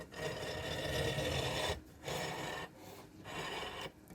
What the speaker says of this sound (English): And I push it through with the delve stick.